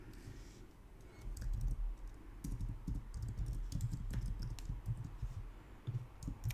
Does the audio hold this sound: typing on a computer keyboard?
yes